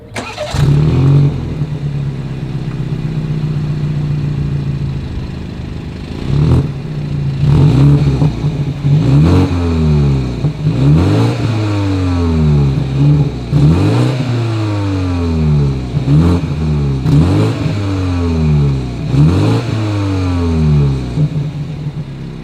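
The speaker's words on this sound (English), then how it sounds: "As always, here is that exhaust clip." A 2020 BMW X3 SUV's exhaust revs repeatedly in sharp bursts, about a dozen throaty pulls rising and falling in a steady rhythm, loud and close, with no talking.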